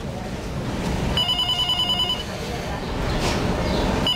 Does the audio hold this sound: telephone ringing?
yes